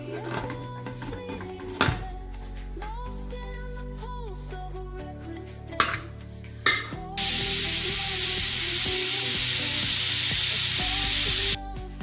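A pressure cooker whistles while milk ginna cooks in a home kitchen: after quieter clinks and soft tonal background sounds, a loud sustained steam hiss bursts out and holds for about four seconds before cutting off.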